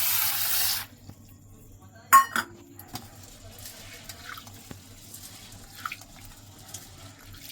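Pigeon pea lentils being washed in a bowl of water, with a brief rush of running water at the start, then a sharp metallic clink of utensils and softer scattered clinks and splashes against quiet.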